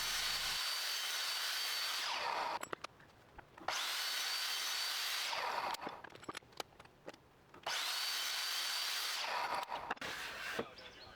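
A power saw cuts 4-inch wood support pieces for a kid's shelf in three loud, sustained whining passes, each followed by a quieter spin-down with small knocks and handling clatter.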